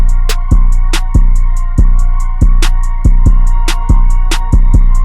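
A dark trap beat thumps with heavy bass kicks and fast ticking hi-hats over a moody sustained melody, loud and steady in rhythm.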